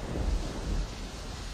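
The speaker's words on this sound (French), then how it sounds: "c'était un soir d'orage." Low rumbling thunder from an evening storm rolls and swells briefly, a deep, close boom that fades into a steady dull roar with rain-like hiss, with no voices.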